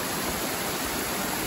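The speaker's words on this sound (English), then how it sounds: "you can drink the water up here coming from the waterfalls" Mountain stream water tumbling down from waterfalls near Ben A'an in Scotland, a loud, steady, close rushing wash with no break and no voices.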